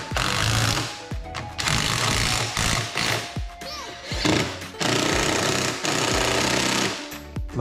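Power tool tightening the screws on a crash bar fitted to a 2018–2022 Yamaha Xmax scooter, heard as loud, close, rattling bursts of whirring and hammering, broken by short pauses and a single voice.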